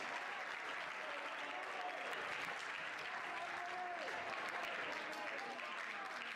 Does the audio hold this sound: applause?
yes